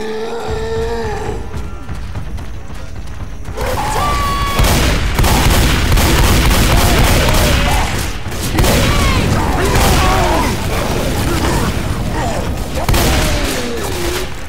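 Dense gunfire in the zombie shooter Left 4 Dead 2, a loud continuous barrage of shots and booms with groans and shouted voices mixed in, sustained for most of the clip after a quieter opening.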